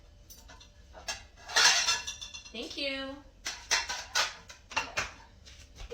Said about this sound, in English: You gonna help me do the dishes?